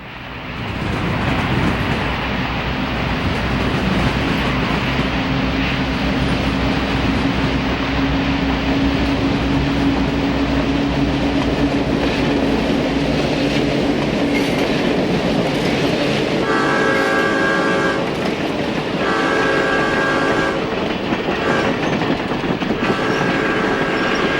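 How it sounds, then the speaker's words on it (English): A B&O Cincinnatian passenger train, three locomotive units pulling twelve cars northbound, rumbles steadily past Romulus Tower in a snowstorm, its loud continuous roar joined by a sustained multi-tone horn blast in the latter part. "Christmas business has swelled the northbound Cincinnatian consist to 3 units and 12 cars"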